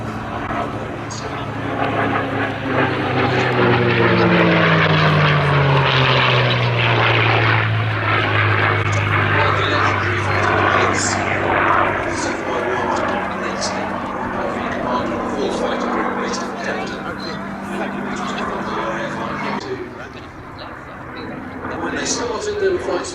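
A P-51D Mustang 'Jersey Jerk' piston-engine fighter in flight at an airshow, its propeller drone loud and steady with a falling pitch sweep early on, continuing as a sustained roar.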